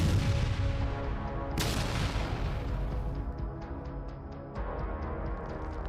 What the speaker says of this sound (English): The explosion isn't just from the strike itself, it's from the ammunition cooking off inside.